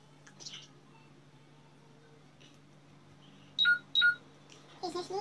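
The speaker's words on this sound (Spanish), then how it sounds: "Ese es mi celular. Que me estoy quedando sin batería." A mobile phone sounds its low-battery alert, two short, bright electronic beeps close together in a quiet room with faint background noise.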